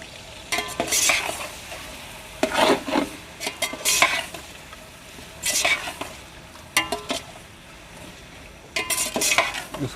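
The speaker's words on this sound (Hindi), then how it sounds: "अब इसमें ये हमारा 2 केजी चिकन है वो ऐड करेंगे और इसको अच्छी तरह भूनेंगे।" Two kilograms of chicken are stirred and fried in a pot for pulao, bursts of scraping and clattering spoon strokes recurring every second or two over a soft sizzle.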